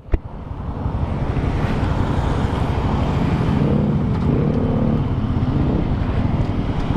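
A Suzuki Smash 110 motorcycle engine runs steadily while riding on the road, a loud continuous rumble mixed with heavy wind noise on the microphone after a sharp knock at the start, with no talking.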